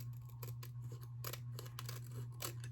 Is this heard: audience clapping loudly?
no